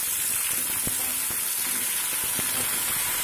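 Ivy gourd fries in a pan with salt and turmeric, making a constant crackling sizzle and a few soft, evenly spaced knocks and scrapes as it is stirred.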